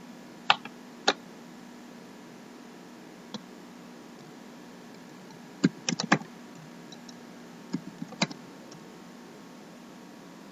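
Scattered keystrokes on a computer keyboard as a password is entered during an Oracle APEX 21.2 install on Windows 10: a few isolated clicks early, then a quick cluster of taps near the middle and end, close and fairly quiet over a steady hum.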